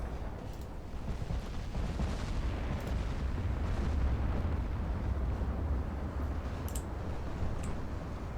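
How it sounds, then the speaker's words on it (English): Heavy naval guns of around 10-inch calibre boom continuously in a game battle, a dense rumbling barrage of overlapping low blasts with sharper cracks near 3 and 7 seconds, loud and sustained throughout. "those 10-inch guns are annoying"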